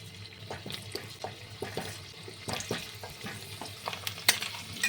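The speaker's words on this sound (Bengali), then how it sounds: "তেলটা গরম হয়ে গেছে আমি আলুগুলো ভেজে নিচ্ছি" Potatoes fry in hot white oil in a kadai, a soft sizzle beneath repeated close stirring scrapes and clinks of a spatula against the pan, uneven in rhythm.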